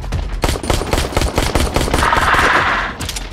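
Rapid automatic gunfire in the VR dinosaur game ARK Park, a loud rattling burst of close shots lasting about three seconds with a brief pause before a final volley.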